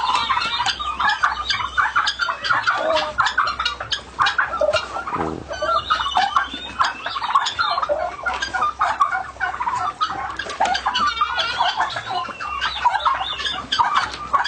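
Around thirty turkeys on a farm gobble and cluck in a dense, continuous chorus while being fed freshly cut grass, loud and close with overlapping calls throughout.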